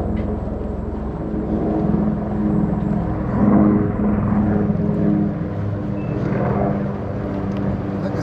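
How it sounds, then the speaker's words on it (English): A helicopter flies overhead near the Tata Steel works in Sheffield, a steady low droning rumble that swells slightly mid-way and stays distant, with no talk. "There's a chopper up above."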